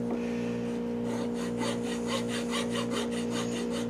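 A hand file worked flat across a pinewood derby car's wooden block, giving a steady run of rhythmic rasping strokes, close and even, over a constant low electrical hum, with no voices.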